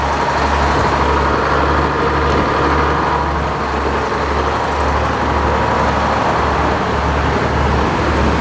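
Sawmill machinery runs steadily with the clutch engaged while a big log is worked, a loud continuous mechanical drone with a low rumbling hum throughout and no talk over it.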